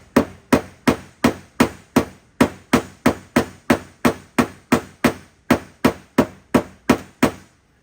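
Hammer taps ring out on a thick steel fender during paintless dent repair, about twenty sharp, evenly spaced metallic strikes at a steady rhythm, close and loud with no talk.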